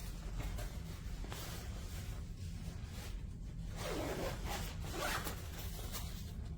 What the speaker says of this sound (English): Let's get a zip back together.